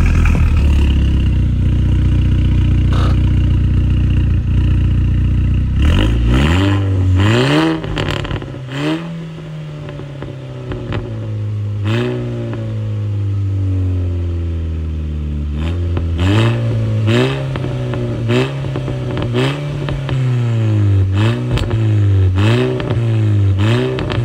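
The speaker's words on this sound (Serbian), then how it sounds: "Sad ćemo da upalimo ovaj auto da čujete tačno." A 2008 Seat Leon Cupra starts up and revs repeatedly, the engine climbing and falling in loud, close bursts with brief throttle blips and an idle between them, and no one talking.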